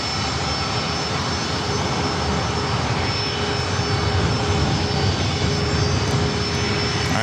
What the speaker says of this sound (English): Southwest Airlines flight 4999, heading to Sacramento, 737 MAX 8